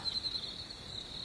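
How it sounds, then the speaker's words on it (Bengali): Crickets chirp outside at night in a steady, continuous high trill. It is faint and heard alone for a brief moment. "বাইরে ঝিঝি পোকা ডাকছে,"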